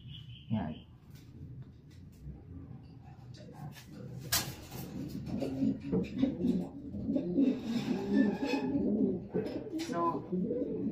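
Domestic pigeons, including a mated pair kept in a loft, coo repeatedly in low, throaty bursts, mostly heard under someone speaking nearby.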